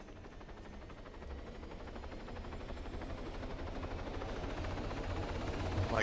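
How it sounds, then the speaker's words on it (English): A helicopter in the video game ArmA 3 spools up, a broad whooshing turbine drone with a rapid rotor chop that grows gradually louder over several seconds, with no voices. "Helicopter spooling up."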